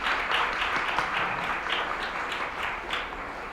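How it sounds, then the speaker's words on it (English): Audience applauding panelists at the close of a health reform event, a steady, dense wash of clapping from a crowd of listeners that keeps going throughout. "Can we have a round of applause for our great panelists?"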